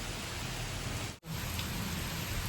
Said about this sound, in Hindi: क्या झमाझम बारिश हो रही है ना